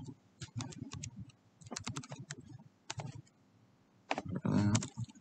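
Code being typed on a computer keyboard, quick irregular bursts of close, crisp key clicks with short pauses between, ending in a denser flurry of keystrokes and no talking.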